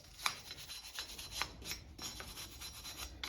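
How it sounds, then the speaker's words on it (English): A small brush scrubs rust from the inside of a truck's front brake rotor hub, giving quiet, close, rhythmic scratchy strokes repeated in quick succession. "kind of scrape the rust from the inside here"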